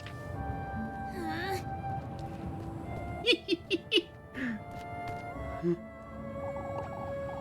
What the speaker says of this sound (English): Yeah, she is exactly a cat